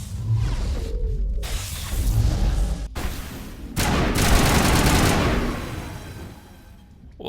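Video game gunfire in Mass Effect Legendary Edition, dense rapid bursts and booming impacts with whooshing effects, loud and continuous over an ambient game soundscape.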